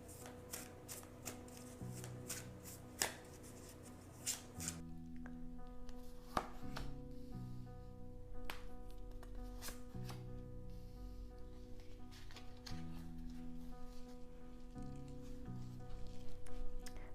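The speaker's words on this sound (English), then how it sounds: "I've already shuffled these cards quite a bit. Give them a few more shuffles." Tarot cards being shuffled by hand over soft background music, with repeated crisp riffling and slapping sounds in uneven bursts.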